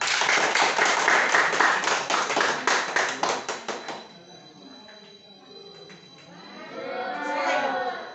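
A class of children claps together in a fast, loud burst of steady rhythmic hand claps for about four seconds, then it fades and young voices chatter and call out nearby.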